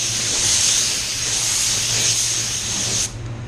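A spray gun lays down a coat of Mazda Soul Red Crystal paint, producing a loud, close, steady hiss of atomized spray for about three seconds before cutting off abruptly.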